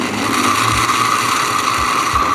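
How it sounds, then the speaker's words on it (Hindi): A blender whirs loudly and continuously, blending mango milkshake with milk and crushed ice, a steady close motor roar with intermittent low thumps as the ice churns. "और अब हम इसे करते हैं ब्लेंड।"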